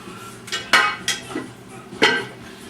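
A spoon stirs sausage and pepper soup in a metal pot, giving several distinct clanks and scrapes against the sides in an uneven rhythm, close and fairly loud, with no speech.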